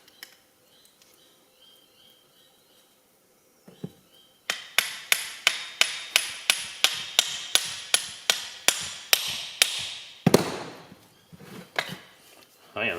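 Steady, evenly spaced hammer strikes on metal ring out with a sharp metallic clang, nearly twenty blows in a row, loud and close, followed by some clattering, while assembling a Massey Ferguson 65 tractor's final drive planetary unit.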